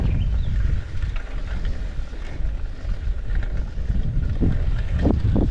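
Steady wind roaring over the microphone while cycling along a sandy road in Mozambique, a loud continuous rush with a few louder bumps toward the end and no talking.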